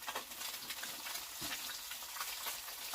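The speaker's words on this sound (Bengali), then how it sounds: "মাছটা ভেজে নিয়ে দিচ্ছি" Fish frying in a pan, a steady broadband hiss and crackle of hot oil running throughout, close and fairly loud with no talk.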